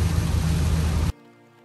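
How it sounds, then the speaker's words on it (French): Rain falling outdoors at Les Sables-d'Olonne, a steady, loud broadband hiss that cuts off abruptly after about a second, leaving a faint low hum. "il se remet à pleuvoir"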